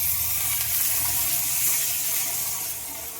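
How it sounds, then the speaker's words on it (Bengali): A short, steady rush of water pours loud and close into a cooking pan of spice paste made with chili powder for a chicken dish, continuous and unbroken with no speech. "এখন দিয়ে নেবো অল্প একটু জল"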